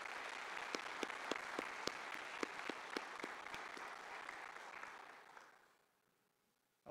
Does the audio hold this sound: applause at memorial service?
yes